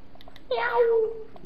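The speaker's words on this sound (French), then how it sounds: "Il y a un chat." A Minecraft cat lets out a single drawn-out meow lasting just under a second, clear and close against a quiet game background with faint soft ticks.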